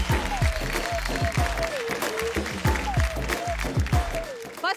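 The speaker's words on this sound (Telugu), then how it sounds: "మీకు మీరు చప్పట్లు కొట్టుకోరు ఒకసారి" An audience at a talk claps in a scattered burst of applause lasting several seconds, while a voice carries on loudly over the clapping.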